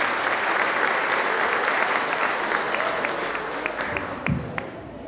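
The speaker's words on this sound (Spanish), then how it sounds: "Quiero repetir ese fuerte aplauso para estos estudiantes que se han licenciado del curso especial." An audience at a school graduation ceremony gives a strong, sustained round of applause for graduating special-course students, dense clapping from a large crowd that tapers slightly near the end.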